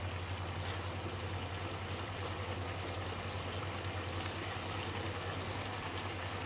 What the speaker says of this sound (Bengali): আলুটা একটু 5 মিনিট সিদ্ধ হোক।